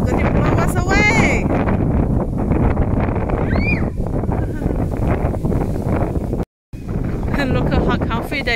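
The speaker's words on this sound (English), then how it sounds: "Oh my gosh, the wind is going to blow us away!" Strong gusts roar across a microphone at an outdoor playground, a loud, continuous rumble with brief excited children's voices rising above it and a short cut-out near the end.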